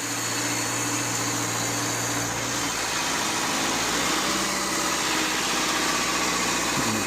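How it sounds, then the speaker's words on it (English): Car engine idling steadily during a starter test, a constant low drone with a faint whirring fan layered over it, with no talking. "I'm gonna test it here with the engine on."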